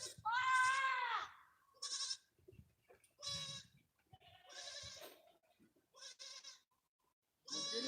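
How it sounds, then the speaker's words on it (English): A farm goat bleats loudly, one long wavering call followed by several shorter bleats spread over the clip, heard up close with quiet background noise between calls. "I'll get the goat in"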